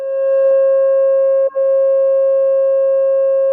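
A steady, loud electronic sine tone stands for a pentagon in a series of tones for geometric shapes. It holds for several seconds with two tiny breaks.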